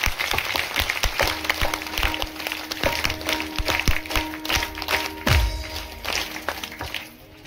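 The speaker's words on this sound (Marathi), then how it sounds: "जर वर हात करून जोरदार टाळ्या विनंती या सर्वांचं करायचं." Audience clapping at a Marathi gathering honouring gurus, a steady crackle of hands with scattered sharper claps and a few thuds, moderately loud for the full stretch before trailing off near the end.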